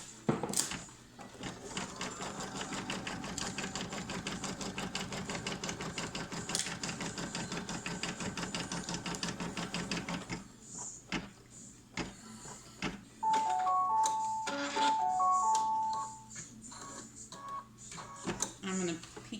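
A sewing machine tacks stitches on a Boxy Mama bag, running in a steady mechanical whir for about ten seconds, then stopping and restarting in shorter bursts with clicks, while a person talks throughout.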